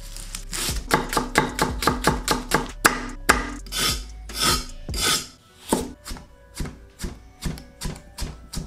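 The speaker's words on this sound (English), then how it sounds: "For the coleslaw, you want to thinly slice your vegetables" A knife slices through red cabbage, white cabbage, carrot and onion on a board for coleslaw, giving a quick run of crisp, rhythmic chopping strokes that later slow into spaced cuts, close and clear with no talking.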